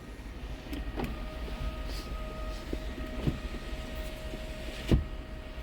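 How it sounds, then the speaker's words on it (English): One-touch power windows on a 2019 Volvo S60 T6 Inscription run with a steady electric motor whine inside the cabin, punctuated by a few clicks and a firm thunk near the end. "You have one touch down windows for the driver, passenger, and back seats."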